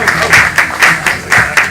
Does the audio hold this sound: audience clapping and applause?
yes